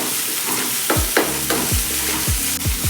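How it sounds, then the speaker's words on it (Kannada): Finely chopped green chillies fry in a pan while being stirred, a steady close sizzle broken by several sharp scraping strokes of a spoon against the metal in a loose rhythm. "ನೀಟಾಗಿ ಫ್ರೈ ಮಾಡ್ಕೋಬೇಕು"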